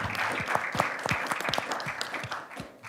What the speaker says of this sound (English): Round of applause for our brave Q&A participants.